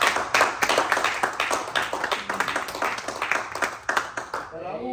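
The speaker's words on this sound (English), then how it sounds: "give the Lord a hand clap" Congregation clapping hands in church, a dense run of many overlapping claps with voices mixed in throughout, tapering off at the end.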